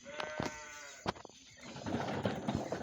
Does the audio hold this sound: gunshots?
no